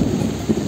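Steady rain pouring outdoors during a storm, a close, dense patter with low rumbling underneath, short and without talk.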